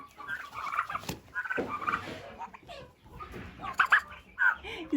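Turkeys gobble in bursts of warbling calls, fairly close, with a few clucking sounds between them.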